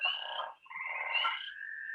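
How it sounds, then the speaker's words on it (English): Summer frog calls, a steady trilling chorus of croaks recorded outdoors, continuous and clear with a brief dip before resuming, no voices present. "it's this beautiful moment of, let me start again, of what the frogs sound like throughout the summer"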